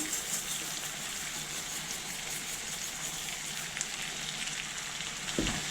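Rice poured into a hot pan for jambalaya sizzles and fries with a steady crackling hiss, close and continuous, with a brief stir near the end.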